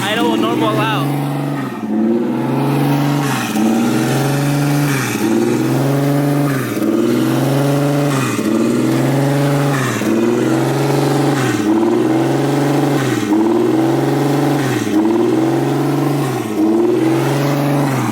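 A turbocharged Nissan 350Z engine runs just after its first start, its loud idle pulsing in a steady rhythmic surge about once a second, with excited voices speaking over it.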